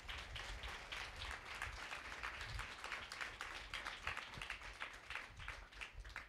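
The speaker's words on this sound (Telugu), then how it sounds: "ఈరోజు ఒక మంచి సత్యం విన్నాం అన్నవారు ఒకసారి గట్టిగా చప్పట్లు కొట్టి స్తోత్రం చెప్తాం" Church congregation claps together in a continuous, fairly even patter of many hands, heard from some distance.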